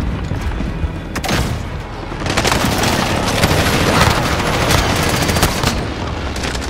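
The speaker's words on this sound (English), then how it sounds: "Allied precision airstrike incoming" Airstrike explosions in Call of Duty: Modern Warfare multiplayer team deathmatch give a continuous loud barrage of booms and rattling gunfire, dense and unbroken across the whole stretch.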